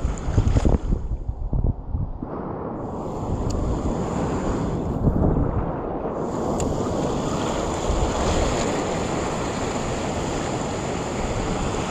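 Strong water current rushes at a snapper fishing spot, a loud continuous roar of surging, churning water mixed with heavy wind gusts against the microphone, with a few harsh bursts early on.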